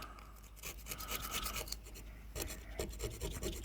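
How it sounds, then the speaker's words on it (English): Rust being scraped off old seized boat winch parts by hand, a close, steady rasping and scratching with repeated strokes, fairly loud throughout with no talking. "So I'm just going to clean out the rust"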